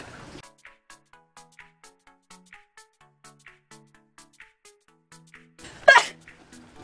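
A single sudden sneeze bursts out near the end, loud and close, after a run of soft, evenly spaced small taps and clicks.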